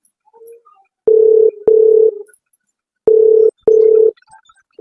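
Telephone ringback tone heard while a call is being placed, two pairs of loud steady tonal bursts separated by pauses, close and clear with no talk over it.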